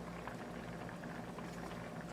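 Raw mango pieces and jaggery boil in a lidded pot, giving a steady, close bubbling simmer that runs unbroken at a soft, even level with no voices.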